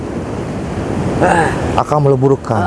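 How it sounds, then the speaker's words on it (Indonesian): Surf rolling onto a south coast beach, a steady close wash of waves and wind buffeting the microphone, with someone speaking loudly over the second half. "Lihat ombaknya, lihat."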